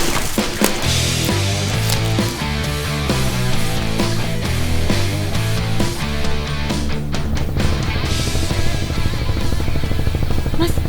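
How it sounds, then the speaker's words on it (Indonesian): A ship's engine approaching near the coast of an island in the Java Sea, a loud continuous rumbling drone that fills the whole clip alone, with no talk over it. "Itu suara kapal."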